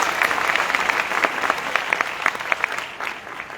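An audience at a direct-selling seminar claps briefly, with scattered distinct hand claps that thin out over a few seconds.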